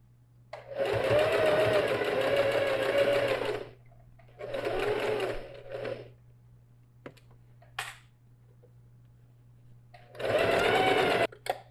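A sewing machine stitches a backpack strap in close, loud bursts of rapid whirring, a long run, a shorter one, then another after a pause, with small handling clicks and a steady low hum between.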